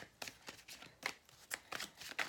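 Tarot cards being shuffled by hand, a series of about six quick riffling bursts in an even rhythm, close and fairly quiet, with no talk.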